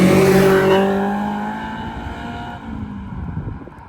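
A Honda S2000 engine revs loudly up front, then the high whine fades and settles toward a lower, rougher idle-like drone over a few seconds.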